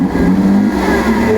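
A Lamborghini Aventador SVJ's V12 engine catches and settles into a loud, steady idle with a low, rumbling burble, close by.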